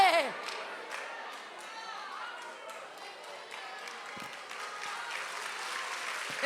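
An audience claps through a pause in a Portuguese-language talk, a moderate, fairly even patter of hands with scattered cheers and shouts, heard from a little distance in a reverberant hall.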